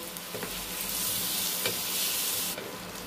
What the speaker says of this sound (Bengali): এখন এর সঙ্গে আমি আলুগুলোকে দিয়ে আবার কষতে থাকবো।